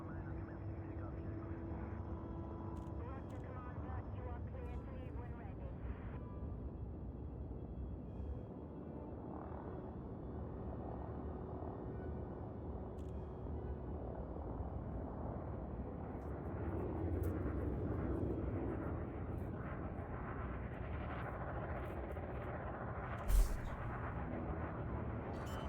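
A spaceship in a video game docks and lands, a continuous low engine rumble and roar holding steady throughout with a slight swell near the end and one brief thud.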